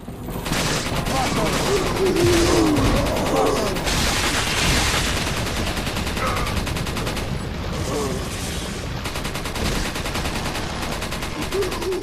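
Dense bursts of gunfire from the video game Resident Evil 4, rapid repeated shots and fusillades running continuously and loudly throughout, with occasional voices mixed in.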